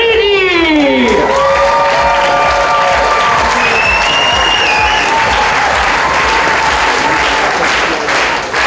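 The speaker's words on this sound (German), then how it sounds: "Gigantischen Applaus für den DJ" Loud audience applause and cheering greet the DJ at the Miss and Mister Nordwestschweiz 2012 final, sustained clapping from a large crowd while an announcer's voice trails off at the start.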